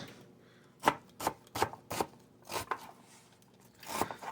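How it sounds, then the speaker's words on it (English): Onions for chicken soup diced with a knife on a cutting board: a run of separate crisp chops, close and distinct, in an uneven rhythm with brief pauses, no speech. "Let's go ahead and get our onions diced up."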